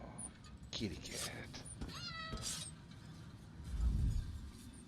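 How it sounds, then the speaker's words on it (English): Meows from a cat in the video game Elder Scrolls Online, several short rising and falling calls close up, over a low game ambience with speech-like voices. "Kitty cat."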